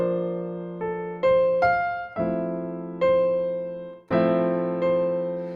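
Sustained brass chord voiced with the major third, held and re-attacked in several swells of warm harmonic tone, played alone in a quiet room with clear pauses between entries.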